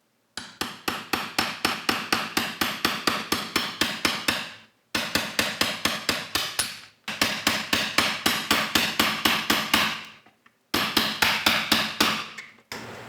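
Hammer strikes driving a chisel into a wooden door frame to seat a striker plate in an old Victorian house: rapid, evenly spaced sharp knocks in four long runs separated by brief pauses, close and clear with no talking.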